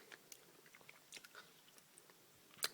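Someone chews a Quality Street caramel, close to the microphone. Faint, soft wet chewing is broken by small clicks, ending with a sharper crunch.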